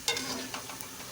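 Crispy pakoras fry in hot oil while being stirred, a close, continuous sizzle with soft scraping pulses from the stirring, no talk.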